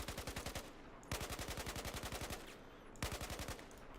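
Automatic rifle fire in Battlefield 4 comes in three rapid bursts, each a tight string of loud, close shots, the first two long and the last short, with brief silent gaps between bursts.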